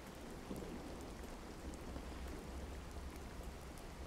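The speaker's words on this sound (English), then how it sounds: "Okay, it's still heavy rain." Heavy rain in the survival card game Card Survival makes a steady, dense hiss of downpour that is fairly quiet and continuous throughout, with no talking.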